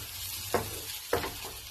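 Leafy greens frying and being stirred in a pan, a soft steady sizzle with two quick scraping stir strokes, quiet and close.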